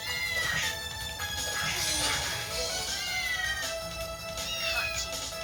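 A cat meows repeatedly in Castlevania Dominus Collection, its cries rising and falling over continuous game music and effects, clear and steady throughout.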